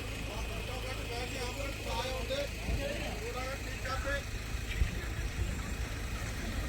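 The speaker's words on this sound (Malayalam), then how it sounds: "നമ്മളെ വണ്ടികൾ ഓരോന്നായിട്ട് വരുന്നുണ്ട് കേട്ടോ" Cars and other vehicles arriving one by one on a road beside Sholayar Dam, their engines humming at moderate distance with a brief louder pass, while a person talks over the traffic.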